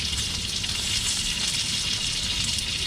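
Won tons and pot stickers fry in a pan on an RV stove, producing a constant, close, busy sizzle and crackle that holds level throughout with no speech.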